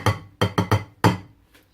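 Metal clatters sharply, close and loud: five quick bright impacts in an irregular burst, each ringing briefly, with a faint tap trailing after.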